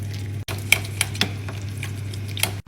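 Boiled squash cooked with garlic and onion being mashed in a pot, soft wet squelches and occasional utensil clinks against metal over a steady low hum, close and moderately loud.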